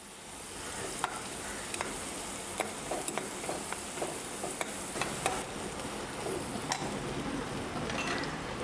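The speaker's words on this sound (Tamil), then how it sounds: "இதை நல்லா இப்படி பொன்னிறமாக நல்லா வதக்கிக்குங்க." Cauliflower florets sauté in a pan for Gobi Manchurian, a steady close sizzle with occasional sharp crackles and light stirring.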